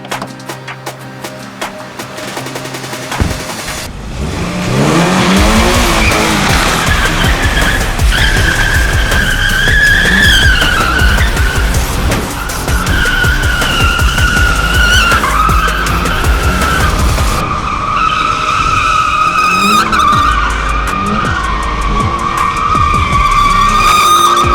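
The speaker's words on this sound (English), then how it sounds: "I gotta admit, those donuts are a little weak" A new Subaru drifting in donuts, tires skidding and squealing loudly over a revving engine, starting after a few seconds of quiet and holding in long sustained screeches with rising and falling pitch.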